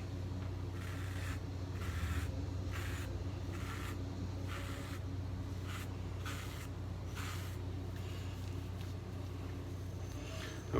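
Close, steady scraping rasp of a razor moving through shave soap lather on a head, with rhythmic strokes repeating about every half second under a constant low background hum.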